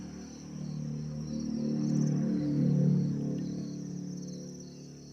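Crickets in a breeding box chirp continuously, a thin steady trill sitting above a low hum of room noise, swelling slightly midway.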